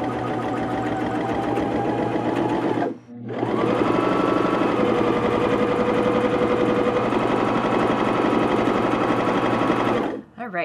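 A Baby Lock Jazz sewing machine stitches along a quilting ruler with a fast, steady mechanical chatter, pausing briefly twice before running on loudly at close range.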